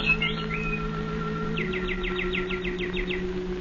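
Birdsong from a vintage radio drama plays over a steady low hum, with a rising call followed by a quick rhythmic run of about a dozen repeated chirps.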